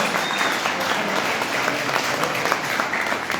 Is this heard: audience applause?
yes